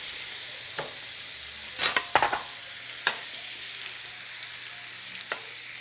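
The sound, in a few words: butter melting and sizzling in a skillet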